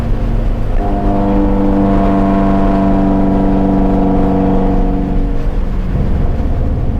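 A 1998 Acura Integra engine pulls steadily in fifth gear, its harmonic drone rising in pitch over several seconds, loud and continuous from inside the car, then easing off near the end.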